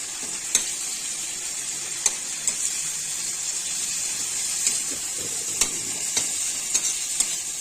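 Crushed garlic and spices fry in oil for a small piali fish curry, a steady close sizzle with occasional sharp pops and light stirring clicks, with no voices.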